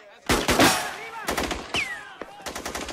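Several sharp gunshot cracks ring out from a sniper firing off a rooftop, spaced irregularly over a few seconds. They are mixed with loud shouting voices and have a reverberant outdoor echo.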